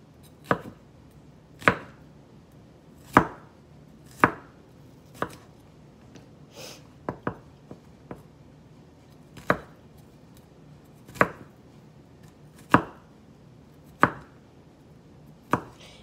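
Knife chopping ingredients for garlicky guacamole on a cutting board, a series of crisp, close thuds at a slow irregular pace, roughly a dozen strikes with short pauses and a quick flurry midway.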